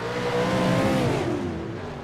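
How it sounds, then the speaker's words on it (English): A V8 Supercar engine in a sim race at Belle Isle, droning loudly and then dropping away and cutting off for a moment under braking before the note shifts back. "you can still hear his engine just turn off for that second"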